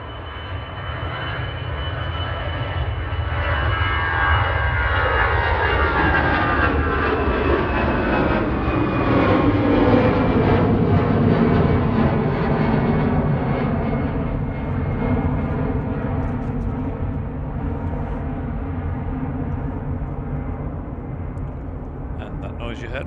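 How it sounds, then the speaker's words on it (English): An easyJet Airbus A320 taking off from Manchester Airport bound for Belfast, a loud, sustained jet engine roar that swells and slowly shifts pitch as it passes, with a spotter talking over it. "EasyJet heading off to Belfast, A320 GZ Oi."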